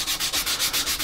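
Abrasive rubbed back and forth across the frets of a Stratocaster partscaster guitar neck, a close, even scraping in a steady rhythm of about eight quick strokes.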